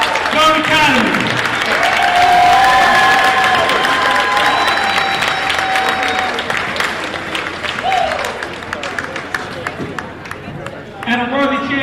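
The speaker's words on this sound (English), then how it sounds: "Round of applause for runner-up, Doane Academy." Crowd applauding and cheering loudly at a boys' prep school basketball championship game, sustained clapping mixed with chatter and shouts across the gym.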